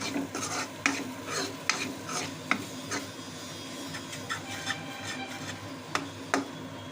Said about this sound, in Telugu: మధ్య మధ్యలో కలుపుతూ ఉండాలి